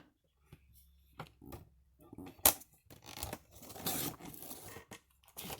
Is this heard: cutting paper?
yes